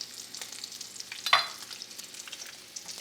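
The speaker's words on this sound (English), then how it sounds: "Good little sizzle happening there on the bacon." Bacon sizzles softly in a pan, a faint steady crackle with one brief louder pop or stir near the middle.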